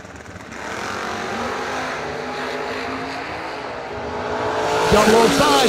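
Drag race cars at a bracket race, including Kenny Underwood's Camaro, roar loudly and steadily down the track, the engine noise swelling near the end under an announcer's voice.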